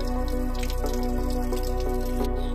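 Water drains and drips steadily from an emptied pipe during a Ford restoration, a continuous patter over a constant mechanical hum.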